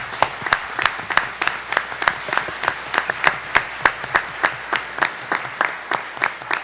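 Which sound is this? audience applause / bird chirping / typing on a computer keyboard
audience applause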